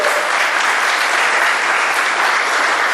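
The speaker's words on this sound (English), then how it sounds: "So let's give a round of applause." Audience applause at an awards welcome ceremony in New York City, a dense, steady wash of many hands clapping together, sustained and loud throughout with no break.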